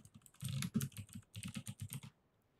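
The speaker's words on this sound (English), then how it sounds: "I'm just going to type in consumer complaint." Someone types on a computer keyboard to enter a search phrase, producing a close, quick, uneven run of soft key taps with a brief pause partway through and no talking.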